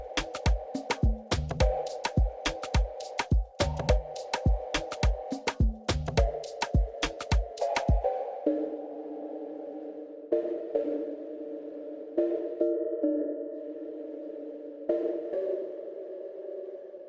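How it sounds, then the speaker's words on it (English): The airy Neri Pluck synth preset in Arturia Analog Lab plays a bright, rhythmic run of short plucked notes over a reggaeton-style pattern. The plucks then thin out into softer, sustained tones with occasional accents. "I wanted something that has a bit more high frequency, a bit of more air, hence this airy preset."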